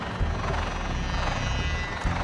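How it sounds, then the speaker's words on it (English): A police drone flies overhead in the video game Secret of Retropolis, a steady, loud rotor-like droning hum that holds evenly throughout, with a slight swell near the end. "It's a police drone."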